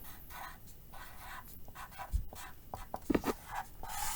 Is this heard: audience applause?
no